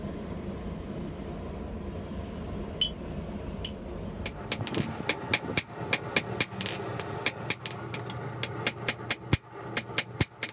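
A hammer hand-forges stainless steel at an anvil: a couple of isolated ringing blows, then a long run of loud, rapid, evenly spaced metallic strikes up close.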